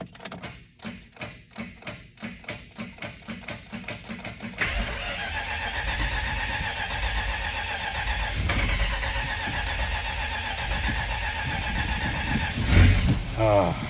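Car engine cranking without catching: a rapid series of rhythmic starter pulses, then a longer, rougher stretch of labored turning over, close and moderately loud, with a voice briefly talking over it.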